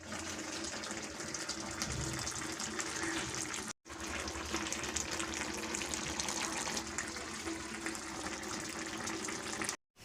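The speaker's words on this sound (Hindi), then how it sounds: "टब को धो लेती हूँ।" Running water pours into a tub, a steady broad rush that briefly drops out twice, close and continuous with no voices.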